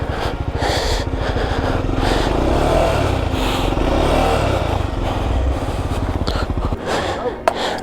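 A Triumph Scrambler motorcycle stuck off-road on a snowy, landslide-strewn mountain track revs hard and loud in rapid pulsing bursts, its engine throbbing close by with clattering and scraping, voices faint beneath.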